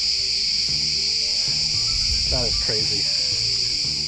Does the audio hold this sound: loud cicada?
yes